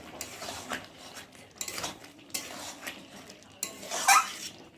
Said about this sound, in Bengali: দিয়ে দেবো মিট মশলা, দিয়ে একটু ভালো করে নেড়ে চেড়ে দেবো